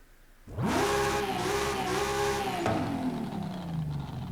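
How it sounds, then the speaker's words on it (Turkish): An Audi RS3 Sedan with an engine swap in the racing game Forza Horizon 5 revs up sharply and holds a loud, close engine roar, then the pitch drops away as it eases off, with no talk. "Şimdi engine swap'la işe giriyoruz. Makine bu."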